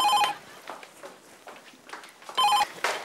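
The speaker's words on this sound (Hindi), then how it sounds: "ओह माय गॉड, पता है किसका फोन है? उमर हलाल का।" A telephone rings in two short electronic bursts, separated by a quieter stretch of faint background noise.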